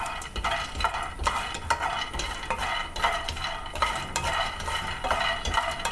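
Peanuts dry roasting in a pan over a medium flame, stirred with a spoon in steady repeated scrapes and rattles, close and fairly loud with a faint sizzle underneath.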